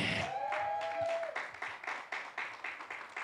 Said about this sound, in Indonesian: Ayo lebih lagi berikan tepuk tangannya.